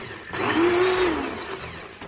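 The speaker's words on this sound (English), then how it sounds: "I do the pulsing option on my blender to get the ginger nice and shredded." A kitchen blender pulses through fresh ginger root soaked in lemon juice with cayenne pepper, giving a loud whirring burst that rises in pitch, holds for about a second and a half, then winds down.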